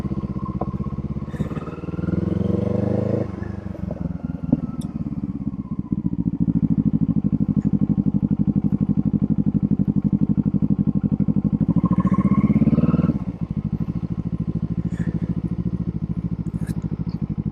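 A Kawasaki Eliminator motorcycle ridden around a parking lot, its engine droning steadily close by, rising in revs a couple of times as it accelerates and easing off between, with small clatters and no voices.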